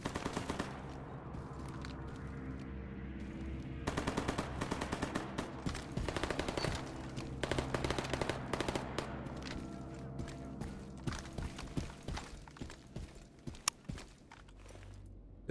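AK rifle firing in a military survival video game, dense rapid bursts of automatic gunfire in steady rattling volleys, loud and continuous throughout with individual shots standing out near the end.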